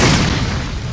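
A bomb fruit explosion in the Roblox game Blox Fruits, a single loud booming blast that fills the whole second and fades slowly with a rumbling tail.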